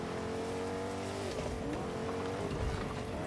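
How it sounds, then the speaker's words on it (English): A car in Fortnite drives up with a revving engine and a rising whine, then tires squeal and scrub near the end, loud and close with no talk over it. "Car's here."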